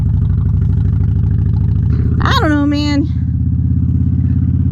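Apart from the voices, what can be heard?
motorcycle engine while riding on the road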